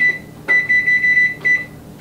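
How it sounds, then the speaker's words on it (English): Kitchen timer set while making spelt bread, giving a run of short, clear electronic beeps: one beep, then a rapid chain of about five, then one more after a pause, loud and close with no talk. "you want to just set your timer for 5 minutes."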